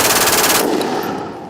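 MG 3 machine gun, descendant of the MG 42, firing a very fast continuous burst at about 1,200 rounds a minute, loud and close, then cutting off into a fading echo.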